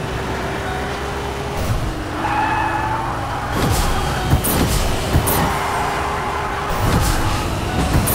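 A Ferrari drives in Fortnite, a steady engine hum with tire skids and squeals, punctuated by several sharp bumps and clatters, loud and close, with no talk.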